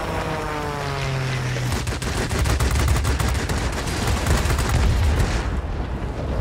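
Anti-aircraft flak fire in the World of Warplanes combat game, rapid dense bursts of gunfire and booming explosions crackling loudly and continuously after a low engine drone.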